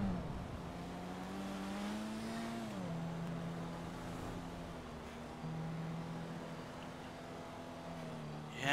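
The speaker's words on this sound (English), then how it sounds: "Oh, my car is sputtering." The engine of a car in a police role-play video game drones steadily and loudly, its pitch dipping and faltering as the car sputters and loses power, with no voices over it.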